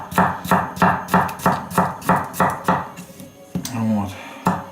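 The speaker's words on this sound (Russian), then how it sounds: "нам нужно их аккуратненько тоже нарезать на салат" Steel knife of N690 stainless chopping cucumbers for a salad on a board, a steady run of crisp, evenly spaced cuts up close, then a pause with a few clattering handling sounds and one more cut.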